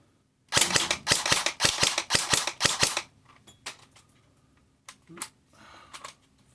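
An ICS G33 airsoft gun fires a rapid burst of about a dozen sharp, evenly spaced shots close by, followed by quieter clicks and faint mechanical handling noises.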